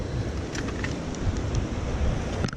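Loud waterfall beside a river at the Rocky River Reservation, a steady broadband roar of rushing water close by that fills the whole clip without a break.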